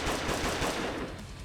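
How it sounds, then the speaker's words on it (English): A rapid volley of gunshots as a sound effect, a dense burst of loud overlapping cracks with no pause, over in a second and a half. "A fresh volley of gunshots sends Mitsumi tumbling to the icy floor"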